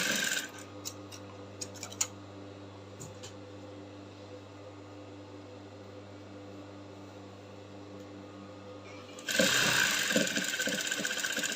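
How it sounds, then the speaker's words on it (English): A sewing machine stitches kaftan gown fabric along a chalk line, a steady low mechanical hum running continuously for several seconds before a sudden louder, brighter burst near the end. "So I'll keep sewing right on the chalk line, sewing like that on the chalk line."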